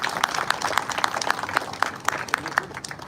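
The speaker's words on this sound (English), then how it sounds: "Can we have a huge round of applause for him?" Audience applause at a book launch event, a steady crowd of hands clapping with sharp individual claps standing out, moderately loud and lasting about three seconds.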